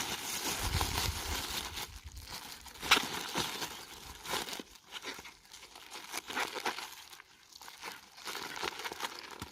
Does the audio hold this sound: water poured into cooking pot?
no